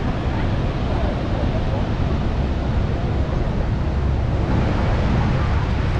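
Niagara Falls thunders as a steady, broadband roar of falling water that fills the whole stretch without a break, loud and near, with misty spray in the air.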